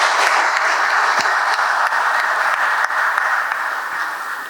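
A large audience at a graduation ceremony claps loudly and continuously, a dense wash of hand claps that holds for several seconds and only begins to ease toward the end, with no voices over it.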